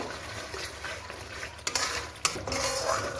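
A spoon stirs ghee and shahi garam masala into a Bengali prawn dish in a pan, giving soft, continuous scraping and swishing close by, with a couple of sharper clinks of utensil against the pan.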